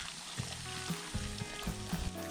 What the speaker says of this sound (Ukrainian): Зараз доливаємо водички гарячою з чайничка.